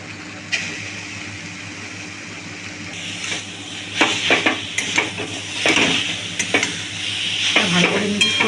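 Milk and coconut being stirred in a hot pan (kadai) for a sweet filling, a scraping, sizzling stir that grows busier and louder in repeated strokes, with utensil clinks against the metal and no talking.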